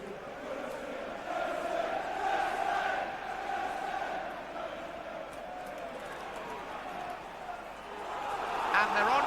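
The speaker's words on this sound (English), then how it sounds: "And just listen now to the Stamford Bridge crowd." Stamford Bridge football crowd at a Chelsea v Middlesbrough match in August 1996, a sustained roar of chanting and cheering from a large stadium crowd that swells again near the end, with a commentator talking over it.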